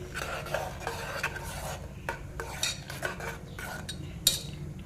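Kathiyawadi dal is stirred in a pot, giving a steady run of scraping, clinking spoon-on-metal sounds at close range with light bubbling beneath and no talk.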